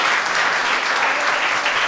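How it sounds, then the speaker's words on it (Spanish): A church congregation applauds together, a steady, dense wash of clapping hands sustained throughout, fairly close and loud, with no talking over it. "Denle un aplauso al Dios del cielo."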